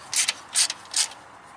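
A ratchet clicks in three short bursts while tightening a bolt on a throttle-body-injected Chevy small block engine, crisp and close with no talking.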